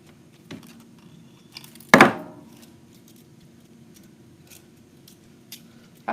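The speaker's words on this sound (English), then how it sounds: "We're just going to clip off the wire." Scissors snip through wire for a woodland ruffle wreath, one sharp crisp cut standing out near the middle, with a few fainter clicks and handling sounds around it in a quiet room.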